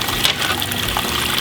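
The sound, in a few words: recirculating pump moving water in hydroponic reservoir system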